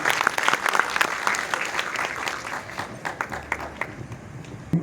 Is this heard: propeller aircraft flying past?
no